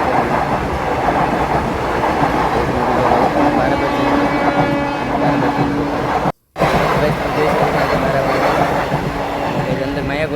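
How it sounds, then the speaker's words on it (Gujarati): A train rumbles past a closed railway crossing, loud and close, with continuous clattering wheel noise and a brief dropout midway, a voice talking over it. "ફાટક બંધ, કારણ કે અહીંયા આવી ગઈ છે ટ્રેન"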